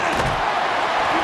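Stadium crowd roaring after a punt return in EA Sports College Football, a dense, loud wash of cheering that holds steady for a moment with no break.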